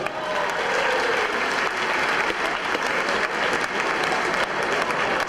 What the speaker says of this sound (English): So a big round of applause for Asimo.